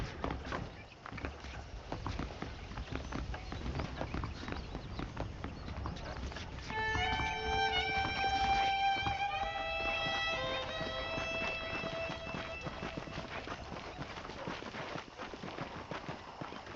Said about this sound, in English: Okay, let's see if you can still ride a horse.